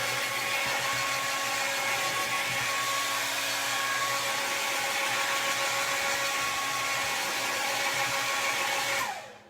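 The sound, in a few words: blow dryer drying paint on both sides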